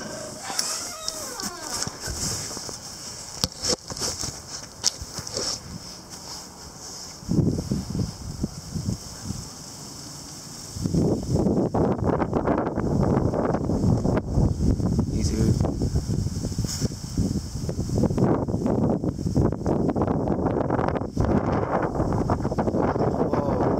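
Strong arctic-front wind gusts of about 50-60 mph with ice pellets, a roaring broadband rush that swells and hisses continuously through the second half, loud and close on the microphone.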